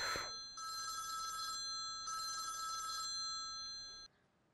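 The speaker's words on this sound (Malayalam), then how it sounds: "ഫോൺ എടുക്ക്." A telephone bell rings in two long trilling bursts with a gap between them, clear and fairly close against a quiet room, ending abruptly.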